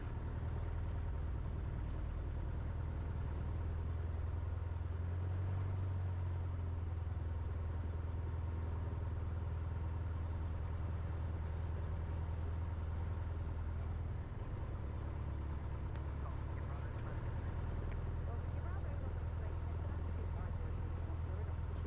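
Light aircraft piston engine idling around 1200 RPM on the ground at Blackpool, a steady low drone with a slight wavering pulse, heard continuously from inside the cockpit.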